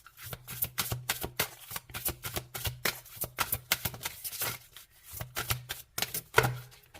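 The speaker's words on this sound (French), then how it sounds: "Allez, on prend une autre carte pour la dominante" Tarot cards being shuffled by hand, a rapid run of crisp riffling flicks and slaps in a quiet room, pausing briefly before the shuffling resumes.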